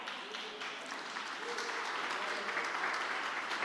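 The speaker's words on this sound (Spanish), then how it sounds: "ese aplauso debería ser aún mejor" A congregation at a Spanish-language church service breaks into sustained applause that swells gradually and stays dense and steady, heard from within the crowd.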